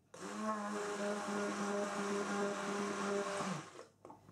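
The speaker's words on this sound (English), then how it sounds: "these little jugs are an absolute nightmare for the stick blender, because the blender only just fits in" A stick blender whirs steadily while mixing cold process soap batter in a small jug, a loud continuous motor hum that cuts off after about three and a half seconds, followed by a faint knock.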